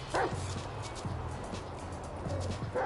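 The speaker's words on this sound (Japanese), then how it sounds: "犬がいた。" Dog barking in a video game, a few short yips and barks repeating at a steady rhythm over a constant low game background hum, moderately close.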